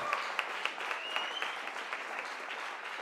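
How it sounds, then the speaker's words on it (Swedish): A concert audience applauding performers, a steady, dense patter of clapping hands with a few sharper individual claps standing out, sustained throughout and fairly full with no talk. "det är bara att ni applåderar igång när ni vill"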